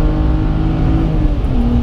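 A car pulls hard on the Nordschleife in the rain after an upshift, its engine holding a loud, steady drone close by and climbing slightly in pitch with no talking.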